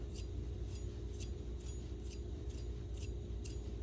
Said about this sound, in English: Hand strop.